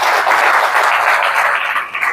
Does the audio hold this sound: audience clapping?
yes